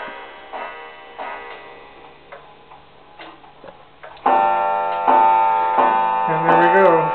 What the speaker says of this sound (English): It's a 30-hour clock.